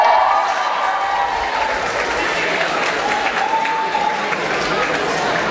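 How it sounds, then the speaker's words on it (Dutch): Applause from a crowd of about 175 Vossius Gymnasium secondary school students at a Napoleon-themed end-of-year museum event, a dense, steady wash of clapping filling the whole stretch at fairly high level, with faint voices mixed in. "Applaus."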